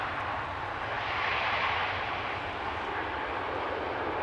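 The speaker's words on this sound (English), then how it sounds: "this is, well, it's a 737. Oh, Ryanair by the looks of it." A Ryanair Boeing 737 jet at Amsterdam Schiphol airport produces a steady, broad engine roar that swells slightly midway, moderately loud and distant, with no voices.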